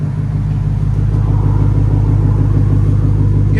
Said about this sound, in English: Nice idle to it.